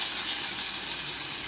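Steady, dense sizzling of onions and tomatoes sautéing in a hot pan, a constant hiss with no voices.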